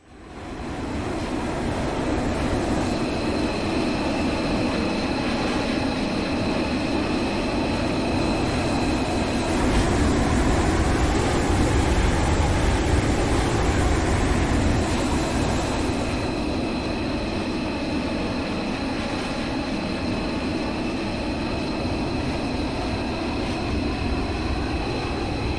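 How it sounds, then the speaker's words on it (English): A Mirage 2000C fighter jet in a flight game, heard from an exterior view: a loud, steady engine roar with a high whine that runs without break for the whole stretch, with no talking. "The plane from the outside is a lot noisier"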